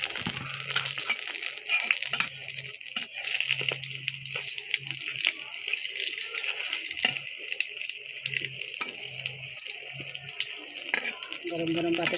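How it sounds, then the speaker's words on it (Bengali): Eggplant slices coated in turmeric and chili fry in a pan in a village kitchen, a steady close crackling sizzle running throughout with brief low knocks and clatter. "এখানে বেগুন ভাজি বসাই দিলাম হলুদ মরিচ"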